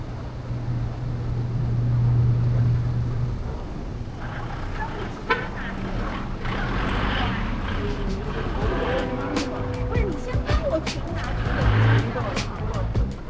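Heavy car traffic on a Manila street heading toward a weekend market, a constant rumble of idling and crawling engines with passing vehicles and occasional tonal horn-like bursts, and faint voices underneath.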